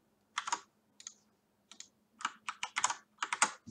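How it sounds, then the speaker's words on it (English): Bursts of computer keyboard typing, quick clusters of key clicks with short pauses between them, close and fairly quiet, no voices. "You're going to be hearing keyboard sounds and stuff like that because of this webcam mic."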